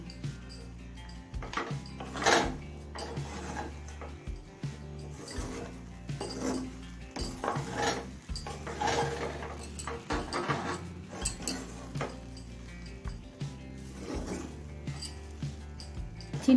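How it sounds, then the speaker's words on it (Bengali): A spoon scrapes and clatters against a cooking pot as peanuts and raisins are stirred into oats pulao, irregular close metallic knocks and rasps over a low hum. "বাদাম আর কিশমিশটা ভালোভাবে মিশিয়ে নিয়েছি"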